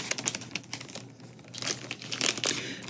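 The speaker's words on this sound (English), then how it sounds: "So let's open the smaller envelope and get this decorated." Small paper envelope being opened, with soft crinkling and tearing rustles in quick, irregular bursts, close and quiet with no talking.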